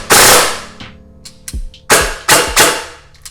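A VFC Avalon airsoft rifle fires a few sharp, loud shots close by, arriving as separate cracks and short bursts with brief pauses between them.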